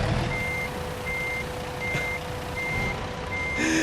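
A truck in American Truck Simulator reverses while parking, its backup alarm giving five evenly spaced beeps over a low engine rumble, ending with a short air-brake hiss.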